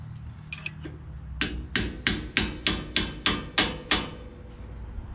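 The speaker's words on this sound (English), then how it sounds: "Get the hammer." A hammer strikes a metal part on a Big Tex trailer about nine times in a steady, evenly spaced rhythm, each blow loud and close, preceded by a few lighter taps and handling noises.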